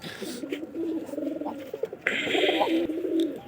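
Khoyari-coloured pigeons coo close by in repeated low, rolling calls, with a brief brighter rustle partway through and no voices.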